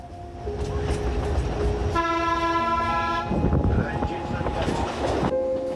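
An Alishan Forest Railway train travels through mountain forest in Taiwan, rumbling with rail clatter while a sustained horn sounds midway, loud and close, with a voice speaking over parts of it.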